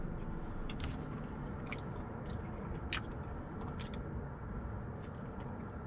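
Someone eats a Seicomart convenience store sandwich close to the mic, with several soft bites and crunches of chewing over a steady background rumble.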